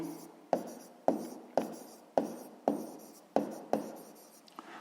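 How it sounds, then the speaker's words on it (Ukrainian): Numbers are written by hand with a pen, close up, in about eight crisp, evenly spaced strokes that each fade quickly. "Записуємо числа."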